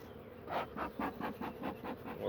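Honeybees buzz around an open hive while a beekeeper places a super, a close, pulsing hum rising and falling in soft waves, fairly quiet and steady with no voices.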